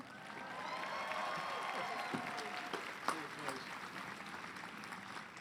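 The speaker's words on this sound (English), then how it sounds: "give all of these people a round of applause" At the LMU 2016 graduate commencement, the graduating class and audience give a round of applause. The clapping is fairly faint and distant, mixed with scattered cheers and voices, swelling early and then tapering slightly.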